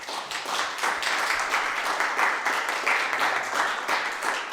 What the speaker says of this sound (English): give yourselves a round of applause for taking a chance on this event